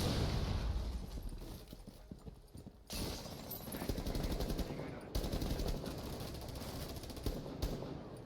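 Gunfire in Rainbow Six Siege, fired while hanging on a rappel rope to shoot out a Valkyrie camera, comes as fairly quiet rapid bursts with sharp onsets over a steady game ambience.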